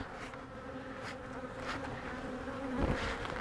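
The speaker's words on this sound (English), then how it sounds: "So there's no bees there's a few bees on this side, more on this side." Honey bees buzzing at a hive frame in a hive infested with small hive beetle larvae, a steady close drone of many wings without pause, rising slightly near the end.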